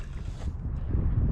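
Wind gusts buffet the microphone outdoors on a Michigan fishing trip, a loud, low rumbling roar that stays fairly constant and is heard with no talking.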